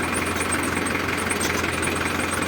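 An old tractor engine runs steadily during a ride, a loud, close, rhythmic knocking chug with mechanical vibration, continuous throughout and without speech.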